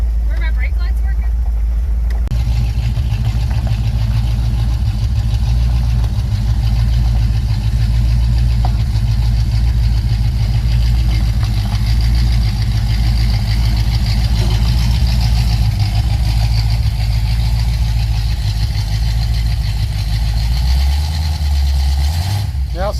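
A 1964 Pontiac LeMans engine idles steadily and loudly with a deep, continuous low rumble for the whole stretch, a brief shift in tone near the end.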